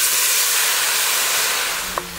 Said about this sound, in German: wir werden jetzt mit 200 ml Weißwein unsere Schalotten ablöschen